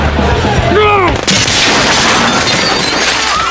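A sharp burst of gunfire in a film scene rips through, followed by a loud, noisy wash of sound; a faint voice is heard just before the shots.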